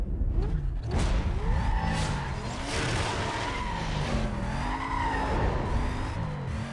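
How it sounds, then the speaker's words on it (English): A Mercedes SL500 V8 in a video game revs hard, its engine note rising and falling through several sweeps alongside tire squeal and skidding, loud and continuous throughout. "How fast this thing just revved up."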